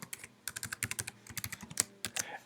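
Rapid, uneven clatter of fingers typing on a computer keyboard, each keystroke a crisp click, close and fairly quiet, in short bursts with brief pauses.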